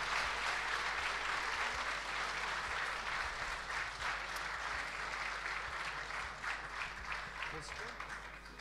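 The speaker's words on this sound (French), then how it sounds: "on applaudit" Sustained applause from a crowd during the grand final of a gaming decathlon event, a steady dense wash of clapping that holds at an even level throughout.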